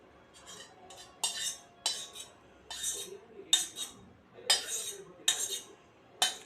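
Cooled homemade ice cream mix is moved into an aluminium container with a spoon, giving sharp metallic clinks and scrapes in an irregular rhythm, close and fairly quiet against a silent background.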